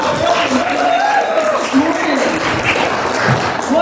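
Conference audience at an environmental justice symposium keynote cheering and applauding, a dense, loud wash of clapping and whoops throughout, with a voice speaking over it.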